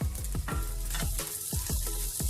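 Tomato paste with coriander and parsley sizzles loudly in a pan for a chicken-and-rice dish, a steady close hiss broken by repeated scraping stirs.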